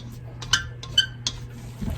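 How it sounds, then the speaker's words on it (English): A utensil mixes peppers and onions into thawed rice in a bowl, giving a few light scraping clinks at an uneven pace over a low background hum. "I'm just mixing them up into the rice"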